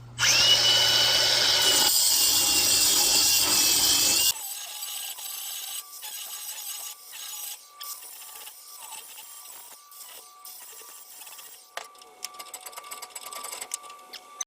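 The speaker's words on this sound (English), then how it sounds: "for being from an angle grinder on a vise" An angle grinder cuts a slot in a steel scraper clamped in a vise. A loud, high metallic whine runs for about four seconds, then winds down into quieter scattered clinks and clatter nearby.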